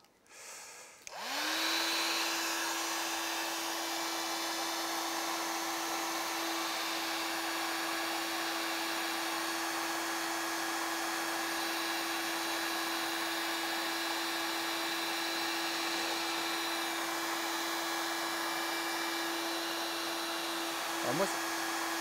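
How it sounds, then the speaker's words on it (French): A hair dryer spins up after a click and then runs with a steady, loud whir while drying the surface of an artwork, holding an even tone for about twenty seconds before a slight shift near the end. "on va mettre du sèche-cheveux partout pour figer au maximum l'œuvre"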